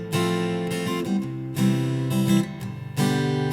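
PRS acoustic guitar played through a Marshall AS50D acoustic amp set flat, strummed chords in a loose jam with rhythmic bursts and sustained ringing, loud and close with no talking.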